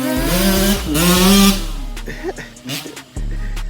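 A KTM SX125 two-stroke dirt bike engine revs sharply nearby, its buzzy, raspy note climbing and falling over a couple of throttle blips, then dropping back to a rough, popping idle.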